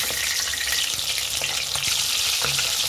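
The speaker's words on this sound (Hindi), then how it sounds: "अब हम लोग मछली को फ्राई कर रहे हैं।" Fish fries in hot oil in a kadhai, giving a dense, loud, unbroken sizzle with faint crackles and light stirring noises throughout.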